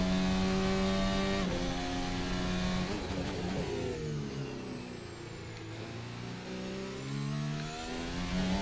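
An F1 car engine in the F1 2025 video game screams through a Bahrain Grand Prix lap, loud and continuous, its pitch climbing through gear changes, dropping on braking, then rising again, with no talk.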